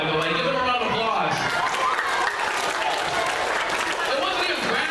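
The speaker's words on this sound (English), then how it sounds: "Give them a round of applause." Audience applause for a group of middle school students after their singing at a school show, a steady dense clapping wash that fills the whole stretch, with voices mixed in underneath.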